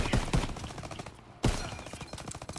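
Enemy soldiers' rifle and machine-gun fire crackles in the Call of Duty: WW2 D-Day campaign, several sharp bursts with a brief lull before another loud volley, close by.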